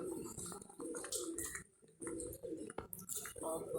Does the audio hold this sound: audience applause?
no